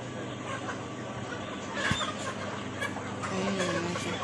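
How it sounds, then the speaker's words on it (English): Chickens cluck in a village yard, soft scattered calls over a steady outdoor background hum, fairly distant and quiet, with faint chatter in the surroundings. "Guys, the chicken here is so much."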